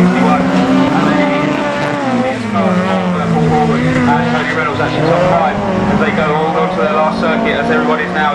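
Race cars in a UKAC class 6 final howl around a circuit, engines revving and shifting in continuous loud, overlapping waves while a commentator talks over them.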